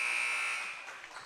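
The end-of-quarter buzzer at a high school boys basketball game blares as one long, loud, harsh electronic tone that slowly fades into faint arena noise.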